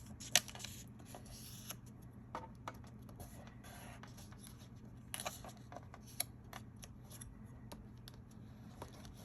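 Cardstock being folded and creased by hand while making a Stampin' Up! drapery fun fold card, soft crisp rustles and creasing scrapes at close range in a quiet room.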